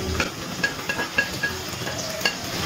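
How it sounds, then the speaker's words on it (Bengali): Lote fish stirred into a sizzling spice paste in a pan over a medium gas flame, with a steady frying hiss and light scraping strokes of a spoon against the pan. "খুব ভালো করে মাছের সাথে মশলাটা মিশিয়ে নিচ্ছি"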